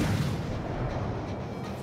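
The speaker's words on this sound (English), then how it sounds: "get your cheap bullet, you know, cheap main battery shells off" Warship main battery guns fire in World of Warships Legends, a heavy continuous roar of booming blasts that rumbles low and loud for the whole stretch, with no voices.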